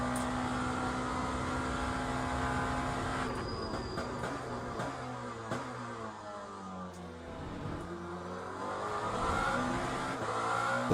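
An F1 car in the racing game Le Mans Ultimate, its engine holding a steady drone, then revving and shifting through sweeping rising and falling pitches, with a faint tire squeal.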